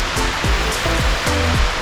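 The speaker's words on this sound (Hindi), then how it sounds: "Just check the weather and rain." Heavy rain at a bird park in Kuala Lumpur, Malaysia, a loud, steady, dense hiss of downpour with low rumbling underneath, close and continuous.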